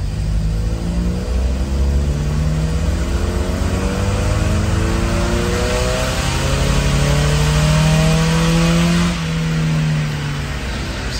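Engine of a car being tuned while chasing a running problem, revving loudly and steadily up close, its pitch climbing and settling in long rising sweeps with a brief dip near the end, no voices.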